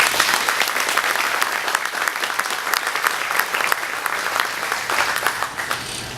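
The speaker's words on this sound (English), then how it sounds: "If you could please just give them one more round of applause" Dense, sustained applause from a dinner audience at an aviation gathering fills the room evenly, a continuous wash of many hands clapping with no break.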